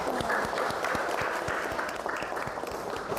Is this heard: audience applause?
yes